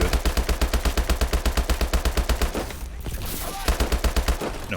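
Rapid automatic gunfire in the shooter Call of Duty: Advanced Warfare, a steady rattle of evenly spaced shots that breaks off briefly near the middle and then resumes, loud and close, with no talk.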